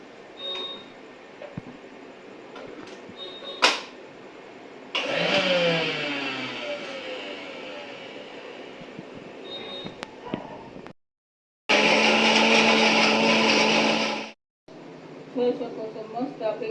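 A mixer grinder blending bottle gourd paste with salt and coriander whirs loudly in a steady burst of about three seconds, with quieter kitchen handling sounds and engine-like whirring before it.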